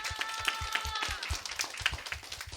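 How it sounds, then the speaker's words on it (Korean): A middle-school church congregation claps to welcome a new minister during a Sunday service, scattered individual claps forming moderate, fairly quiet applause with a somewhat irregular rhythm. "박수로 맞아주면 될 것 같아."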